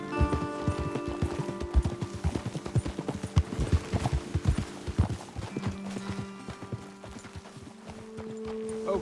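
Horse hooves clip-clop steadily on the ground in the Red Dead Redemption 2 video game, with irregular close thuds from more than one horse and a faint snort, set against soft game music.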